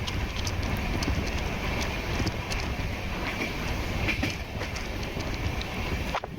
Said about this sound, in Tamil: Search gate to Andheri local train.